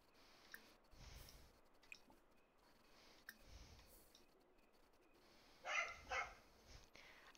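A dog barks in The Sims 4 video game, short yelps sounding faintly in the background among quiet game ambience and soft clicks, with a louder pair near the end.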